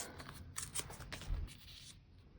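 Paper torn by hand from a planner page, a few quick crackling rips and rustles heard close up but faint, with no voices.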